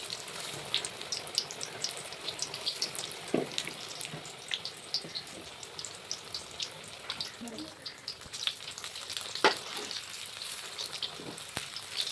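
Eggs frying in hot oil in a home kitchen, a close, steady sizzle and crackle with scattered sharper pops, mostly uninterrupted by voices.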